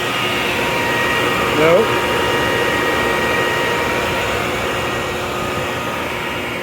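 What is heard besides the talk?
blower inflating a DD airbag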